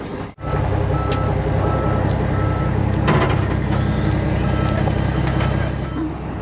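A heavy machine, about to be replaced by a new Hx235, backs off a trailer with a steady, loud series of reversing beeps over a rumbling diesel engine, close by and continuous.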